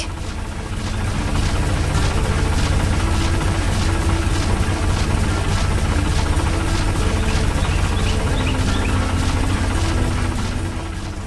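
Busy factory machinery and a moving conveyor belt in a cartoon, a loud steady mechanical drone with a heavy low hum running continuously and alone.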